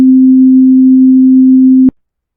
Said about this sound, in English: Middle C has a frequency of 261 Hz.